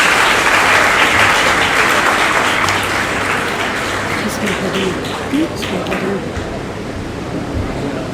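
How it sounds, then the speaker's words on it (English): Conference audience giving a big round of applause, dense sustained clapping that fills the space and slowly thins out, with a few faint voices underneath. "Can we have a huge round of applause once more for sir?"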